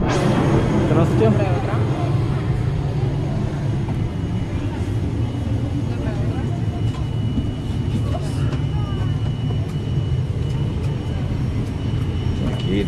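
Steady low engine drone and airflow hum fill a plane cabin, with faint background voices and occasional clicks throughout.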